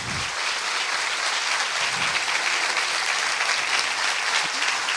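A lecture hall audience keeps up sustained applause for a guest speaker, a thick, even roar of many clapping hands that runs unbroken throughout.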